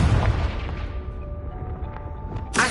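A Confringo blasting spell in Hogwarts Legacy detonates with a loud, deep boom that rumbles and fades over about two seconds, followed by a short burst of noise at the end.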